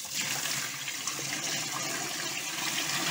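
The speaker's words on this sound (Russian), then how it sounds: "Все, заливаем рассол." Brine poured into a barrel packed with watermelons, a continuous splashing, gushing stream of liquid, steady and close for the whole stretch with no talk.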